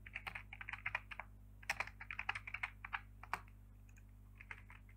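Fingers type quickly on a computer keyboard, a close run of light rapid clicks in bursts with brief pauses, over a low steady hum.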